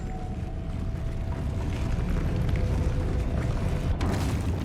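A Depulso spell cast in Hogwarts Legacy on PS5 rumbles as a steady, dense low whoosh that builds slightly and ends with a brief brighter burst near the close, with no talk.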